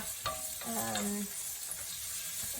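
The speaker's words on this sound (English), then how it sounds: "Now grab a wooden spoon and give that a really good stir." A wooden spoon stirs pumpkin soup in a pot over a gentle sizzle, making a few soft scraping strokes, with a brief voice murmuring in the middle.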